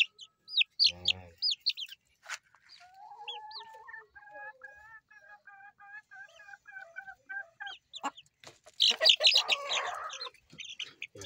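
A hen and rooster cluck and call in a loose series of sharp and drawn-out vocalizations, with a longer warbling call in the middle and a burst of louder squawks near the end, close by.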